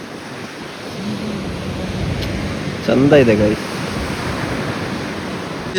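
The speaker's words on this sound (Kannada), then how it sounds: "ಅಯ್ಯೋ ನೋಡು ಎಷ್ಟು ದೊಡ್ಡ ಅಲೆ ಬಂತು" Ocean surf roars in a steady broad wash as big waves break on a beach at Kannur, Kerala, while a person speaks briefly over it.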